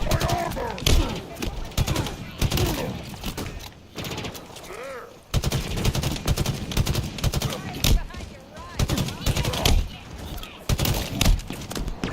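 Rapid bursts of video game gunfire, including machine-gun volleys, crackle loudly in dense clusters with a brief lull midway, while players' voices come and go underneath.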